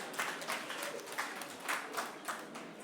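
An audience at an Africa Day session applauds, giving a soft, thin patter of clapping heard from a distance, fairly faint and steady, with no talking.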